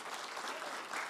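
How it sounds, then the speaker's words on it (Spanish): A church congregation applauds together, a dense, even burst of clapping that carries on steadily from start to finish with no talking over it. "Que es una ofrenda de palmas al Señor."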